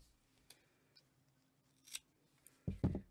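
Scissors snip crochet yarn close by: a couple of faint clicks, then two quick, louder cuts at the end.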